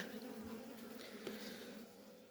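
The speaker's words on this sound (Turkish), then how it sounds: "Evet bu da bir diğer arı. Bu da 4 çıta bir arı." Honey bees hum around a four-frame hive colony in a Turkish apiary, a steady close buzzing drone with no speech, lasting a couple of seconds.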